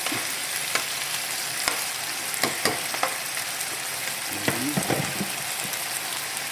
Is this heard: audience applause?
no